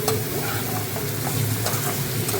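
Cauliflower muri ghonto is sautéed in a pan with a close, steady sizzle broken by scraping stirs of the spatula and a couple of sharp clacks, with no voices.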